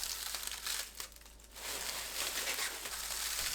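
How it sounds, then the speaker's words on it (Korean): Roasted laver seaweed being crushed by hand inside a plastic bag, a steady crackling, crinkling rustle with a short quieter lull partway through, close and continuous. "봉지에 넣고 부수면 부스러기가 날리지 않아 깔끔하고 빠르게 요리할 수 있는데"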